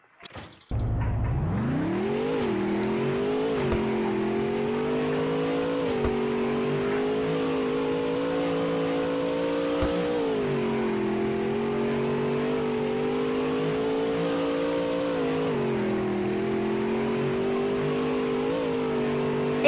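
Monster truck engine revving steadily in the game Car Dealership Tycoon, a loud, continuous engine drone that rises sharply after a brief start and then holds with gentle surges in pitch throughout.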